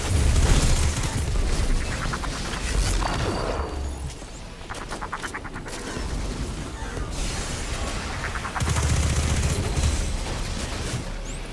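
Rapid gunfire and booming weapon blasts from a Destiny 2 firefight against Vex enemies, loud and sustained with bursts of automatic fire and crashing impacts.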